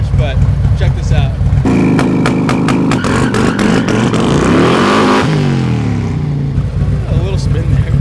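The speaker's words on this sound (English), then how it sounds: "A little spin there, but that was so gnarly off that limiter." A car fitted with a Redline Performance Kit launches hard off the rev limiter, the engine crackling and bouncing on the limiter before a loud rising roar as it pulls away close by, with voices over it.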